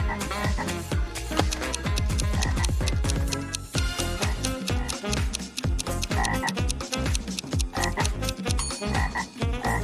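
Frogs croaking loudly and close, a dense chorus of rapid rhythmic croaks and pulsing calls overlapping throughout, with no talking.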